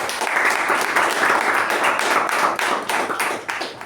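A Toastmasters meeting audience breaks into a round of applause, with sustained, fairly loud clapping from many hands that thins slightly toward the end.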